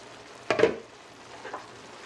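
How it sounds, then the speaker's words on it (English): Stewed saltfish simmers in a pot and gets stirred, with one brief close scrape-and-swish of the spoon followed by a softer second stir over a faint low bubbling. "I've got a nice little bubble going on there, so I'm just going to move it around a little bit and just let that continue stewing down there"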